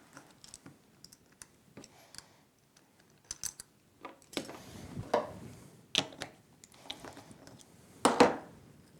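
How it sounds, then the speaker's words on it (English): Small metal clicks and scrapes from an Abu Ambassadeur baitcasting reel as its handle, star drag nut and side plate are taken off, irregular close taps growing busier and louder toward the end. "So I'll just really quickly remove the handle, the star nut, and the side plate"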